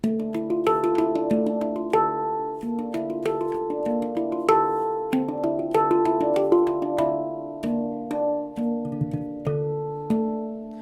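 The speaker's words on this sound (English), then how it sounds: "the natural coloured handpans, the sound is just that little bit more natural" A natural-coloured Generation 7 handpan played alone in a steady flowing pattern, each struck note ringing out warm and bell-like, overlapping into a soft resonant wash.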